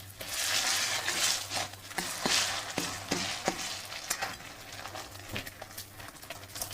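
Tomato pieces hit hot oil with ginger and onion paste in a frying pan, a loud steady sizzle with sharp crackles and a few stirring scrapes, close by and without talk.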